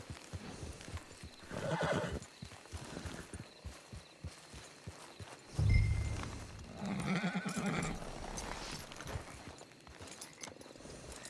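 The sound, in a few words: horse neighing and hooves, from video game Red Dead Redemption 2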